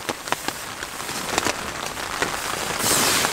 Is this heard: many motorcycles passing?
no